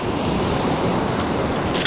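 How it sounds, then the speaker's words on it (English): Heavy sea swell of four to five feet breaking onto a beach, a loud, continuous roar of surf blended with wind rumble on the microphone, with no voices. "You can probably hear the swell behind me. It's mental. It's breaking onto the shore at a good 4-5 foot."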